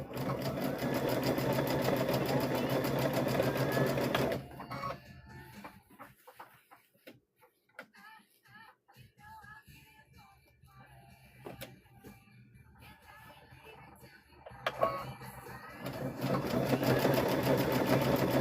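A sewing machine runs in steady bursts while stitching a trick-or-treat bag, loud whirring at the start and end with a quieter pause of light handling and clicks in between.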